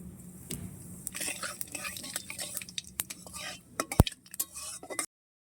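Bay leaf and cumin tempering in oil in a pan for a banana blossom dish, with faint crackling under sharp intermittent spatula clicks and scrapes, one louder knock near the end before it goes quiet.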